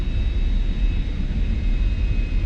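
F-86 Sabre jet landing on a short runway in DCS World, a steady low engine roar and rumble of rollout under braking, loud and continuous with no distinct events.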